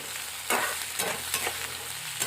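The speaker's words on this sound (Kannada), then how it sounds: "ಇವಾಗ ಎಣ್ಣೆಗೆ ಚೆಂದಾಗಿ ಫ್ರೈ ಮಾಡ್ಕೊತೀವಿ" Onion and green chillies fry in oil with a steady sizzle, punctuated by several sharp stirring scrapes of a spoon in the pan, up close and without speech.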